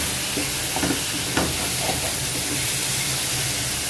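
Coriander leaves crackle in hot oil as a loud, dense, continuous sizzling hiss, with a few faint stirring knocks mixed in.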